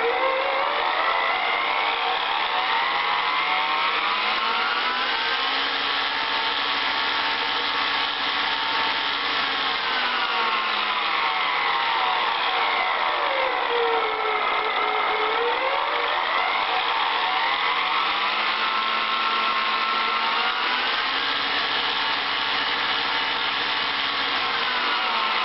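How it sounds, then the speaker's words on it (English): A Bakers V8 supercharger model spins on a mini lathe, its mechanical whine rising and falling in pitch as the speed sweeps up and back down repeatedly, loud, close and continuous with no talk. "I've got it set up on my mini lathe and here she goes."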